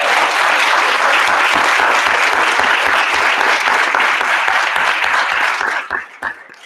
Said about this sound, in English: let's give these people applause too